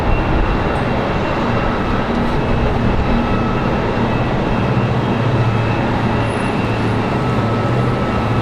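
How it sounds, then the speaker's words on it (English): A JetBlue Airbus A220 jet pushes back at Raleigh-Durham International Airport, giving a steady, loud, continuous engine roar with no voices over it. "Got the JetBlue A220 pushing back"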